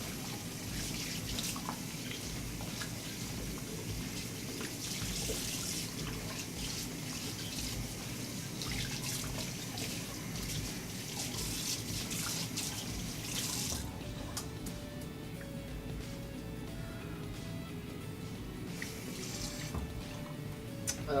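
Water runs steadily from a sink tap while a shaving brush is rinsed under it, with continuous splashing and some shifting gurgles, close and with no talk.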